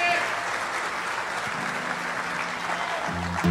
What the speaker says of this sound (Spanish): un fuerte aplauso para todos ustedes por estar esta noche aquí con todos nosotros